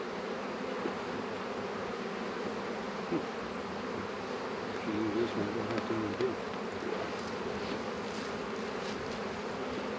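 A dense, steady buzzing of many bees on hive frames close by, with a few faint bumps and brief murmurs in the background.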